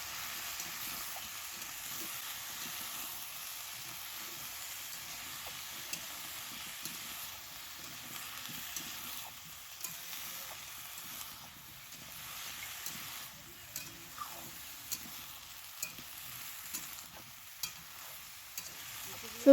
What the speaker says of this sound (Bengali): এখন খুন্তি দিয়ে সব উল্টে পাল্টে ভেজে নেব।